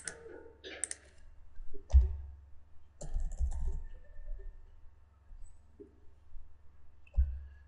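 Computer keyboard keys typed while entering an Excel function, sparse clusters of crisp clicks in a quiet room, with a few short bursts separated by pauses.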